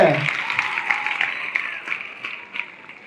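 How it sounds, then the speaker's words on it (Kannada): An audience at a folk comedy and singing programme claps in a burst of applause, loud at the start and then thinning to scattered claps over a few seconds. "ಬರಲಿ ಚಪ್ಪಾಳೆ"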